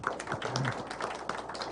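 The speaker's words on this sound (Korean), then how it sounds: "박진호 사장님께 큰 박수를 보내고 싶습니다." A small audience gives scattered applause at a lecture, with a handful of distinct, irregular claps sounding close and moderately loud.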